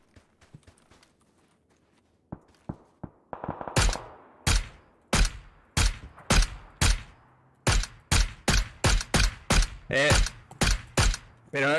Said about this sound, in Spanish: le da cuatro tiros con un MK en la cabeza, tío